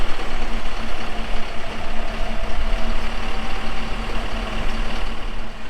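An Isuzu truck sunk to its differential in mud runs its engine steadily with tires spinning, a loud continuous low roar and whine holding for several seconds with no talk.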